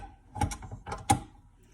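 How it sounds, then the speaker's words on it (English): A dough hook is fitted onto a stand mixer for a bagel dough, making a few quick metallic clicks and clunks close by in otherwise quiet surroundings, with two sharper snaps standing out. "Now we're going to add our dough hook"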